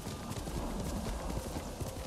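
A horse's hooves clip-clop in the video game Ghost of Tsushima, a quick continuous run of close hoofbeats over a dense, steady game soundscape.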